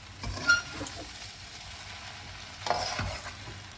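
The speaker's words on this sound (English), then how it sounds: "let's fry some more" Pineapple fried rice frying and being stirred in a pan over a gas flame, with a steady low sizzle and two louder bursts of scraping and tossing, close and alone.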